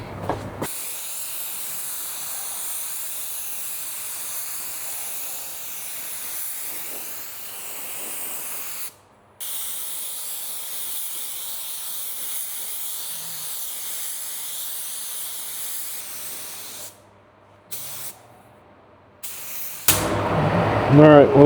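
A Sagola 4600 spray gun with a 1.2 tip lays a second coat of paint on a car bumper at home, a loud, close, continuous hiss broken by a few brief pauses, with a clatter at the end.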